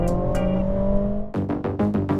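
A 2024 Mercedes-AMG CLA 45 S drives hard on a closed track, with a sustained engine note that then breaks into sharp revving bursts and gear changes, loud and close, with no talking.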